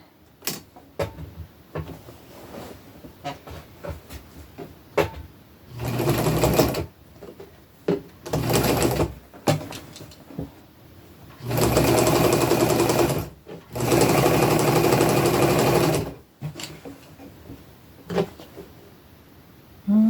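A sewing machine stitches a zigzag hem on a shirt being reworked into a feminine style, running in several loud close bursts of steady whirring separated by pauses filled with small clicks and fabric handling.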